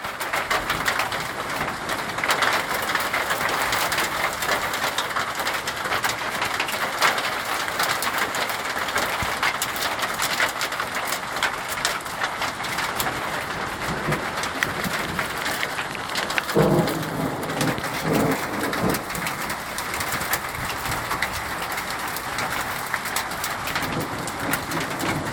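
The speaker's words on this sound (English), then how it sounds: "it's still raining" Steady rain keeps falling after a thunderstorm, a dense continuous hiss on surfaces with a low rumble of thunder partway through and birds calling faintly in the background.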